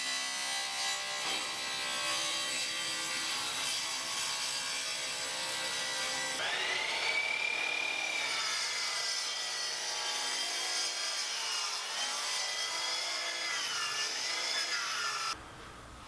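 Wood being worked on a cherry desk top, steady continuous rasping and sawing texture with a scraping, ratchet-like edge, loud and close, running unbroken and cutting off sharply near the end.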